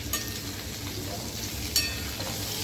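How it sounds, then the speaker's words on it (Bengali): Spices being stirred and fried with a ladle in a pan, a steady soft sizzle with a faint scrape of the ladle partway through. "এই যে মশলা হাতা দিয়ে মশলা কষাচ্ছি"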